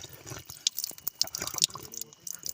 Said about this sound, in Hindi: ये कढ़ाई है ना, वो उसको धोने वाला है